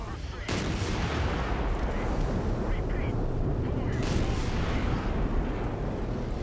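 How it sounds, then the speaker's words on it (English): Continuous rumbling barrage of artillery fire in a video game battle, dense and steady booming with no clear gaps. "There's still some artillery out there."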